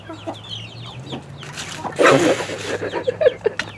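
Several chickens cluck and chatter close by, with a louder burst of clucking midway, and brief voices in the background.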